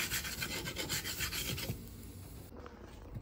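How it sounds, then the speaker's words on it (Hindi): Wooden spoon rubbing and scraping residue off a non-stick tawa in a kitchen, a steady rasping scrub with quick repeated strokes that eases off and grows fainter toward the end. "ये देख सकते हैं लकड़ी के चम्मच के साथ मैंने इसको रगड़ के काफ़ी हद तक जो है इसका जो मोटा मोटा मामला था वो उतार दिया।"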